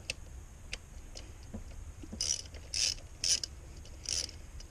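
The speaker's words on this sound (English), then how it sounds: "All you're going to need is a 7mm socket, and you're going to take these two bolts out real quick." A ratchet fitted with a 7mm socket loosens the ignition coil bolts on a 2014–17 Ford Fusion, giving a few close, crisp clicks in short separate bursts against a quiet background.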